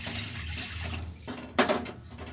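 Water from a glass poured into a pan for making kesari, a soft steady trickle running throughout with a louder splashing gush near the end, close by and with no talking.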